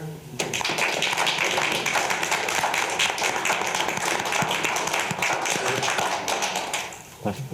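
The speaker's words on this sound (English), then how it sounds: "I want us to give the police department a round of applause" Steady applause from an audience at a borough council meeting, honoring the police department: dense, continuous clapping that starts abruptly, holds at an even level for several seconds, then thins out near the end.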